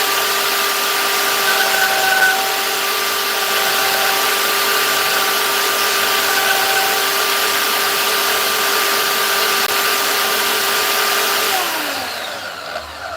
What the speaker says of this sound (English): bandsaw.